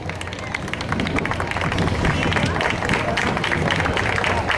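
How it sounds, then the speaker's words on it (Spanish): An audience at an award ceremony for Parachicos gives applause and cheers, a dense spread of clapping mixed with crowd voices, steady throughout. "la licenciada Analí Alfaro Escobar, lo cual pido aplausos, por favor."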